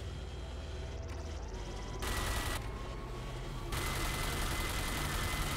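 Gunfire from the video game RAGE rattles in sustained, dense bursts that swell louder partway through and then continue steadily, loud and close, with no speech.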